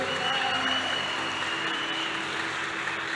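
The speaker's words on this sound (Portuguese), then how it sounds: "Você pode dar uma salva de palmas pra esse cara aqui?" A church audience applauds a guest, sustained clapping from a large crowd in a reverberant hall, steady and moderately distant, with no talk over it.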